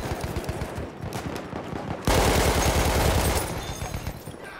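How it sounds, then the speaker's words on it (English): Rapid machine-gun fire in the World War I shooter Verdun, a fast rattling stream of shots that jumps to a louder, closer burst midway and continues amid distant gunfire. "This machine gun's so good!"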